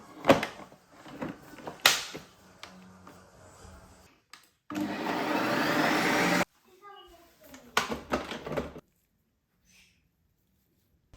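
A Ninja Creami ice cream maker spinning a mint chocolate ice cream tub, a loud steady whirring grind for about two seconds, with clicks, handling knocks and brief speech before and after.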